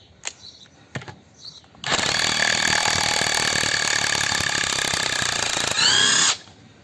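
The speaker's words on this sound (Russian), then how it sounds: "Поэтому для этих целей используем гайковертик." An impact wrench from a cordless screwdriver review, heard first in a few short taps, then in one loud, close run of continuous hammering whine lasting several seconds before it cuts off.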